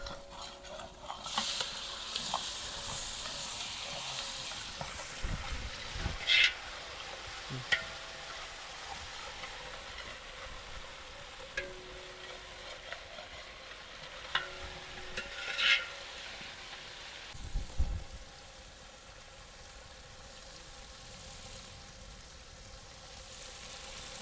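Tomato paste frying in hot oil for a village-style pomfret fish masala, a soft steady sizzle with occasional sharper crackles and stirring scrapes, fairly quiet and without voices.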